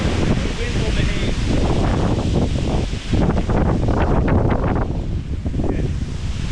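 Strong outdoor wind buffets the microphone in a continuous loud, rumbling roar that swells and dips, with a voice partly buried beneath it.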